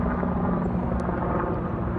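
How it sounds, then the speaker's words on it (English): Helicopter flying over a flooded Lake Allatoona after a foot of rain, a continuous rotor thrum and engine roar that stays loud and steady throughout, with no talking. "that helicopter"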